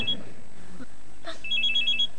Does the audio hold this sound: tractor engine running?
no